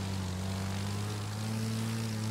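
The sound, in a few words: propeller plane engine in video game The Crew 2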